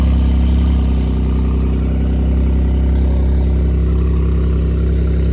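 A car engine idling steadily at a Paris car meet, a loud, deep, continuous rumble close by with slight fluctuations and no throttle blips.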